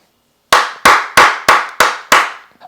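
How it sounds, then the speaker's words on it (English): A single person claps hands six times in a steady, evenly spaced rhythm, each clap sharp, loud and close, with silence before the first clap and a faint trailing sound at the end. "I'm going to give a hand clap for that one right there"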